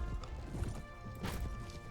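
A horse gallops amid battle in Mount and Blade Warband, rapid hoof clip-clops with a whinny and thuds of impacts, busy and mid-distance.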